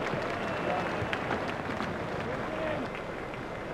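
Crowd applause and cheering rising from the stands after a good batting shot in a retro Australia versus India cricket video game, a steady dense roar of clapping that holds at even loudness throughout.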